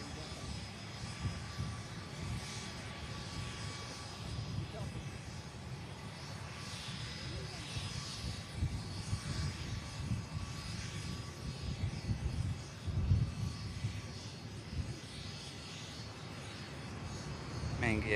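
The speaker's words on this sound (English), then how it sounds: "Main gear down, nose gear down with a buffer smoke. 787-10. Saudi touches down." A Saudi Boeing 787-10 touching down on the runway: a steady, fairly distant jet roar with rumbling low end that swells slightly toward the end, with a voice talking over it at times.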